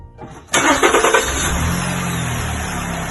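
A car engine is cranked by its starter motor during a starting-system current test: brief quiet, then an abrupt whirring crank with rhythmic pulses that catches and settles into a steady close idle, loud and without talk.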